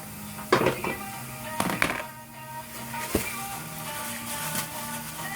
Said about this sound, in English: Alright, then I'm gonna put it in the pan. The pan is getting hot right now